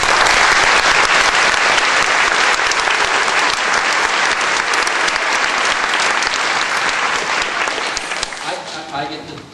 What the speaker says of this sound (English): So how about a round of applause?